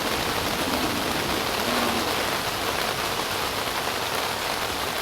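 Rain falls steadily on a tent during stormy weather at Huntsville State Park, a dense, even hiss of drops drumming close on the fabric, continuous and unbroken with no voices.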